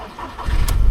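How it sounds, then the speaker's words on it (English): A car engine being started with the ignition key, a brief crank that catches into a low, steady running rumble, close and loud, with no talking. "First, turn the ignition on."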